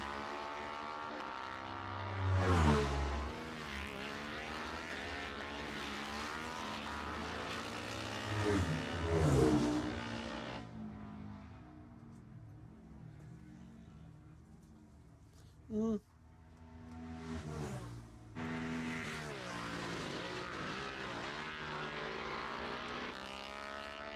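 Racing motorcycles at the Armoy Road Races, several loud engine passes sweeping by with rising and falling pitch, fading into a quieter stretch before more bikes approach, with an announcer talking throughout.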